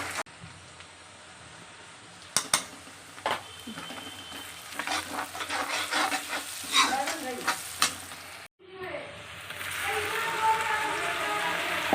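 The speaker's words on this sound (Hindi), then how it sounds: "हम प्याज फ्राई हो रही है।" Onions frying in a pan in a home kitchen, a soft continuous sizzle with scraping stir strokes and clanks, briefly cut off near the end before the sizzle returns louder; a voice speaks faintly at times.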